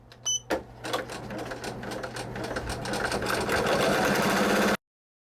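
Commercial embroidery machine stitching a bean stitch on flower petals, a few starting clicks then a rapid, steady mechanical chatter that builds in loudness and stops abruptly.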